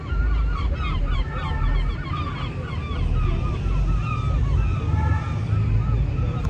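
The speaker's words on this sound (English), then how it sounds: "There's like a whole flock of birds just like going around doing their thing." A flock of birds honks repeatedly overhead while flying around in Paris, a busy chorus of calls over steady outdoor rumble and a low babble of distant voices.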